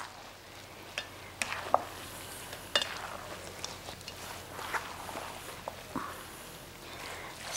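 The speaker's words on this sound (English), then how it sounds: "so now you mix it all up" Spring roll filling being mixed in a bowl: soft scraping and stirring with scattered sharp clicks and taps of a utensil, moderately close and quiet, no talk.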